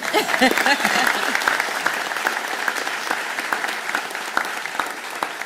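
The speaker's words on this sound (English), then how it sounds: "if you want to clap" Audience applause at a school during a provincial premier's announcement, a steady round of clapping from a gathered crowd that starts under a speaking voice and carries on alone for several seconds.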